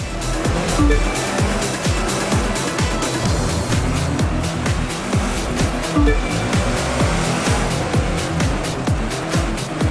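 A car in The Crew 2 races along a snowy mountain road, its engine droning loudly and continuously with rapid revving pulses and occasional tire noise, a dense, unbroken motor roar.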